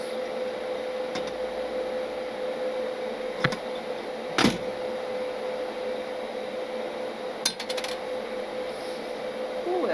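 A PrimeWeld 225 AC/DC TIG welder runs with a steady electrical buzz and hum while burning holes through thin metal, with a few faint pops and clicks scattered over the drone.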